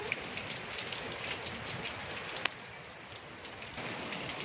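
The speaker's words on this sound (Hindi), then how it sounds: "इस वक्त आवाज़ें आ रही हैं पानी के गिरने की" Rain falls steadily outdoors as a soft, even hiss with scattered patter and one sharp drip, fairly close and quiet, with no voices.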